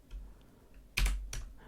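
Computer keyboard keys tapped during a terminal lesson, two distinct clicks close together near the end after quiet, the first louder, with no talking.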